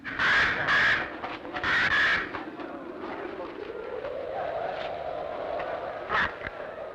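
A crow loose in a café in a 1943 Sherlock Holmes film gives two loud, harsh caws close by, then a fainter call later, amid a low hum and the sound of someone speaking.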